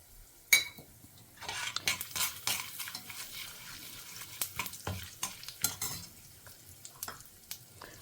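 Lentils tempering in a pan with asafoetida give a faint, crackly sizzle, with intermittent spoon scrapes and clinks against the pan close by.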